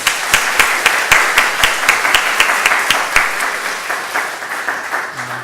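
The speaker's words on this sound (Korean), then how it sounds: "우리 격려의 박수 하겠습니다" A church congregation claps steadily for about five seconds, a dense wash of applause with sharp individual claps standing out, which fades slightly toward the end.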